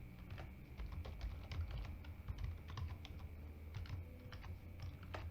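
Rapid, irregular computer keyboard key presses during data science coding in Python, steady close clicking that continues alone with no talk.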